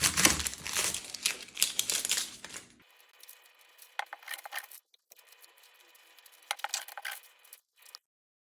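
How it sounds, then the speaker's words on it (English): Dry papery onion skins are peeled away by hand in a kitchen, making close, intermittent crinkling and crackling rustles in several bursts separated by short pauses. "So let's peel the onions."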